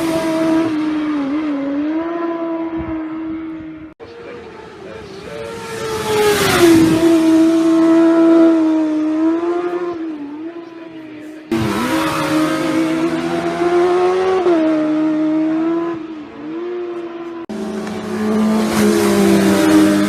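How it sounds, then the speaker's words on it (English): Superbikes racing flat out in the 2017 Isle of Man Classic TT Superbike race, engines howling loud and close with rising and falling pitch through gear changes, several bikes passing in succession with sharp cuts between them. "we will resume the action with Dean in the 2017 Classic TT Superbike race"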